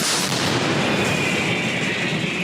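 A continuous loud, rumbling blast of heavy gunfire or artillery, dense and sustained throughout with no voices.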